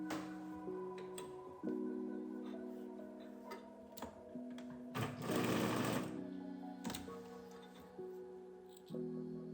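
A sewing machine stitches sleeve pleats in steady whirring runs with a ticking mechanical rhythm, pausing and restarting several times, close and clear.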